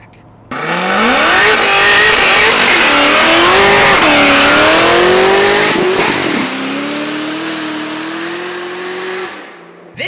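A 2010 Cadillac CTS-V wagon with an automatic transmission and about 600 wheel horsepower revs hard, its engine note climbing and wavering loudly up close before easing to a steady lower drone and cutting off.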